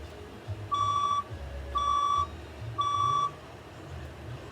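A building fire alarm sounds during a scheduled test, giving three loud, evenly spaced electronic beeps, each about half a second long, over a low background rumble.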